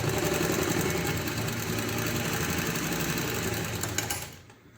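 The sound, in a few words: sewing machine re-stitching a blouse neck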